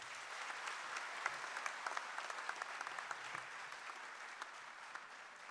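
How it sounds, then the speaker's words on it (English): An auditorium audience at an interactive session with students in Srinagar claps in a sustained round of applause, with dense overlapping claps at moderate distance and no speech over it. "a huge round of applause for all of us"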